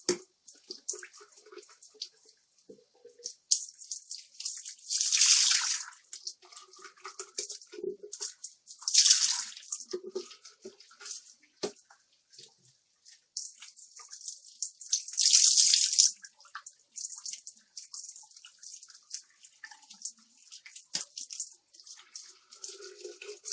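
Something being rinsed out under running water, with several intermittent bursts of splashing flow separated by quiet stretches and small drips, close by and without talk.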